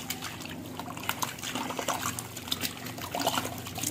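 A hand stirs titanium dioxide powder into water while mixing emulsion paint, giving a steady close sloshing and swishing of liquid with small trickles and drips, with no talking.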